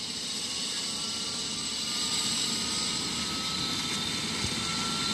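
Twin-engine airliner in flight, a constant broad jet roar with a thin steady whine above it, loud and unbroken throughout.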